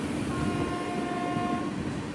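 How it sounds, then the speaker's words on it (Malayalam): A train pulls into Paramakudi railway station on the Kanniyakumari to Rameswaram Express route, a steady loud rumble of rolling cars with a sustained horn tone running through the middle, no voices. "ട്രെയിൻ ഇപ്പോൾ പരമക്കുടി റെയിൽവേ സ്റ്റേഷനിലെത്തി."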